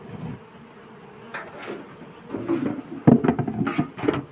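Honeybees buzz around a hive in an apiary as a low, steady hum, with intermittent rustling and handling noises growing busier toward the end.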